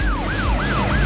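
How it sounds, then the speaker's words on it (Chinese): A police car siren wails in a fast, repeating rise-and-fall pattern, loud and close over low road noise from the vehicle. "当我们在路上看到一辆响着警铃的警车疾驶而过时"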